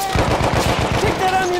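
A light machine gun fires in Battlefield 1 in a woodland setting, a steady rhythm of about a dozen close, loud shots over roughly two seconds, with faint game voices behind.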